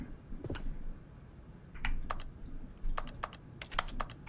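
Mouse clicks in The Stanley Parable that sound like keyboard typing, a sparse run of sharp taps in small bursts, close and fairly quiet, with no talking over them.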